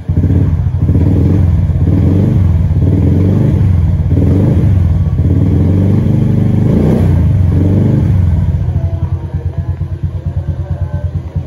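A Honda Beat fuel-injected scooter engine runs close and loud, revved in a series of rhythmic surges, then eases back toward a quieter idle near the end.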